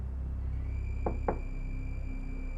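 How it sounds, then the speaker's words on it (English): Two quick knocks on a door, close and fairly crisp, rapped about a quarter second apart over a low steady background hum with faint muffled music, no voices. "I knock"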